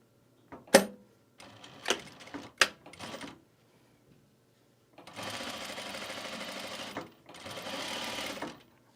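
A sewing machine stitches through pleated fabric with uneven thicknesses, running in two steady bursts of a few seconds each after some scattered clicks and handling knocks, close and clear with no talking.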